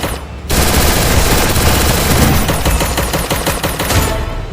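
Rapid bursts of automatic gunfire from a squad-versus-squad battle royale video game crackle almost continuously, loud and close, with no voices over them.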